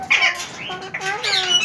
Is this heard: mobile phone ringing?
no